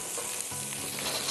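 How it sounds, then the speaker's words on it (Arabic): Peppers cut into thin julienne strips and mushrooms sizzle and fry over high heat, a steady, close hiss of sautéing vegetables being stirred in the pan, with no voices. "بنسيب الخضار كله يتشوح مع بعض"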